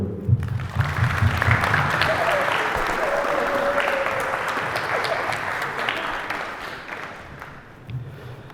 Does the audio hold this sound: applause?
yes